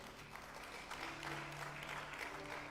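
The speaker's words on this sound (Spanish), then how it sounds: "Denle un aplauso a Dios." Church congregation applauding, a soft, steady patter of many hands clapping together, fairly distant and low in level.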